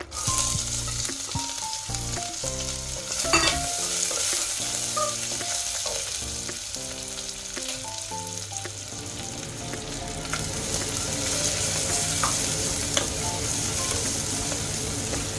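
Chopped onions fry steadily in hot oil for palak pulav, a loud continuous sizzle with stirring scrapes and clinks layered over background music.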